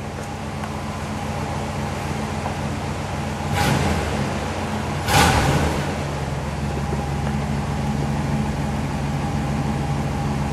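Engine of a 1961 Imperial Crown convertible, a steady low idle close by, broken by two short swells of revving before it settles back to a smooth, even idle.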